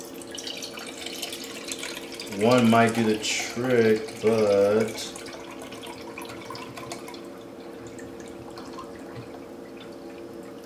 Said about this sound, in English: We're gonna do 2 cups of coconut water.